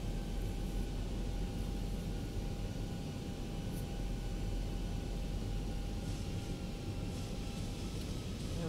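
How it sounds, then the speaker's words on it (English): Simulated A320 airliner jet engines in X-Plane 11 drone with a steady broadband roar and a faint thin whine on top, constant and fairly quiet throughout, with no one talking. "It really does sound like an A320"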